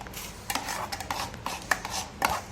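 A spoon stirs a raw green mango panhe mixture in a vessel, with irregular clinks and scraping strokes against the container, close and fairly soft.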